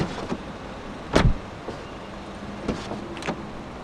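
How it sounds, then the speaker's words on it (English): A 2018 MINI Cooper S has its door opened, and its frameless window dips down with a short motor whir, followed by a thud and faint clicks of the latch and handle close by, with no talking. "The windows dip down a little bit as you open the doors to clear the door frame."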